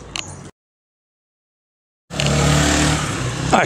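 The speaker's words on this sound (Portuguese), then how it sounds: "Esse daqui é motor 6 cilindros original." An original six-cylinder engine in a Willys military Jeep runs at close range, a loud steady rumble that cuts in after a gap of silence and holds through to the end.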